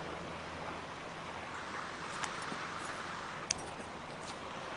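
A waterfall and flowing water in the VR climbing game The Climb, set in a red rock canyon, make a steady, moderately faint rushing wash with no talk over it.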